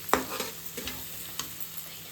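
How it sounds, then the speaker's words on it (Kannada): Prawns frying in a hot pan for a spicy dry roast, with a steady sizzle and scraping stirs, one sharp clank near the start. "ಚೆನ್ನಾಗಿ ಫ್ರೈ ಮಾಡಿ 1-2 ಮಿನಿಟ್ಸ್ ಕ್ಲೋಸ್ ಮಾಡಿ ಇಟ್ಬೇಡ."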